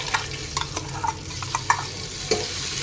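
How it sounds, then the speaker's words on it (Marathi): Rice roasting in ghee with a low sizzle, punctuated by frequent light scrapes and taps of a spoon stirring the grains; no talking. "मिडियम गॅसवर भाजून घ्यायचे आपल्याला"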